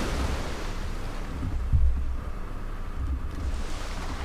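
Open water in GTA V FiveM after a drop into the sea, a steady wash of waves and wind with one low splash-like thump midway, moderately loud and without talk.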